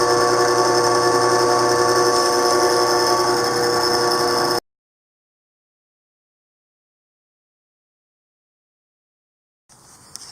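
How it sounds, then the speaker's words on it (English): A Forstner bit drills into wood for a farm table, a steady, loud, close grinding whir for about four and a half seconds, then stopping abruptly into silence before a brief faint noise returns at the end. "This is the Forstner bit going through, getting it ready to line it up."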